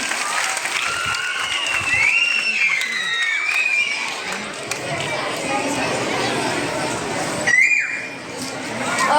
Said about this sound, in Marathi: जोरदार टाळ्या वाजवायच्या तुम्ही